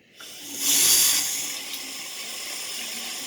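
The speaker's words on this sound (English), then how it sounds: "You rinse it with water." A razor is rinsed under a running faucet during shaving, the tap turning on with a sudden bright hiss of water that swells, then settles into a steady softer stream.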